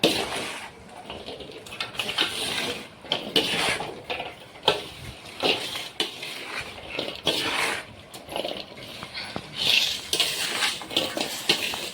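Pickle mixture stirred in a pot for Maharashtrian achar, with repeated scraping and clinking of a spoon against metal that comes in irregular strokes, close and moderately loud, alongside occasional soft liquid sounds.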